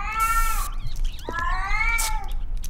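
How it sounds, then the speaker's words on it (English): A dead cat in the horror video game ERIE makes several loud, drawn-out meows and caterwauls close up over a low ambient hum, with no talking. "Is that a dead cat? Then why the fuck is it making sounds?"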